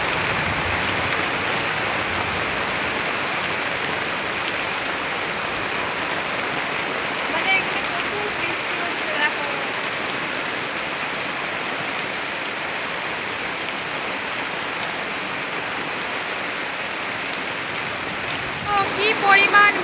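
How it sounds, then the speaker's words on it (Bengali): Heavy rain pouring down outside on a rainy day, a dense continuous roar of hissing downpour that stays loud and even throughout, with a few brief clatters near the end. "এত বৃষ্টি হচ্ছে"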